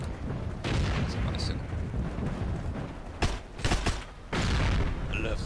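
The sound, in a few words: explosions and artillery fire in the video game Heroes and Generals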